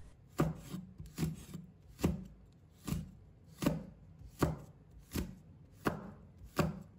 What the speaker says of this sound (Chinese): 然后把姜蒜切成末